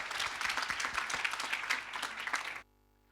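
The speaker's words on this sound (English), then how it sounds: "Can we have another round of applause for these amazing girls?" Audience applause at a London event celebrating a group of girls, dense steady clapping heard alone at close range, then cutting off abruptly near the end.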